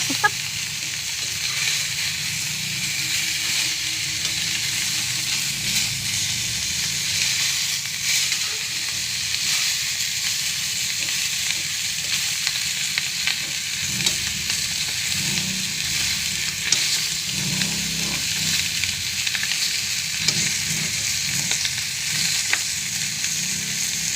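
Oil sizzles and crackles steadily in a pan as pink salmon fries for the full stretch, a constant bright hiss with occasional faint clinks.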